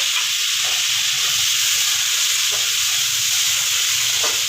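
Tomatoes dropped into a hot wok with cumin seeds give a loud, steady hissing sizzle of frying and steam that fills the whole stretch, with a few soft stirring knocks and no talk.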